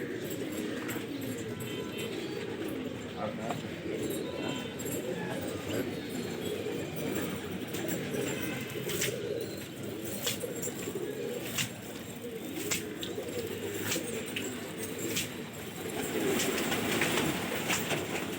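Pigeons emerging during a pigeon flying and fighting contest, with soft cooing and bird sounds spread over a steady rumbling outdoor background and a few sharp ticks, moderately distant and continuous.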